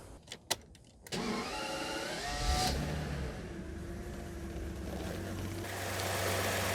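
A V12 BMW E31 850i cranks briefly after a few clicks, then fires and settles into an idle with a rising rev partway through, close and clear with no talking.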